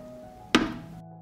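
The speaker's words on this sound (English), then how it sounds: "I put the pan on the stove." A pan holding jars in water set down on a stove, giving a single short, solid thunk close by in an otherwise quiet moment.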